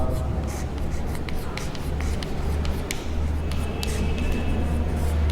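Chalk or marker scratching across a board during a Hindi physics lecture on solenoids and inductance, quick repeated strokes in bursts over a steady low hum, with a teacher's voice talking throughout.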